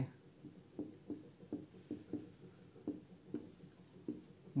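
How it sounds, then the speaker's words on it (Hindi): Pen or marker writing notes by hand during a Hindi-medium Class 12 physics lesson, a steady series of soft scratchy strokes at close range, with no voice over them. "चलिए लिखिए फटाफट लिखेंगे"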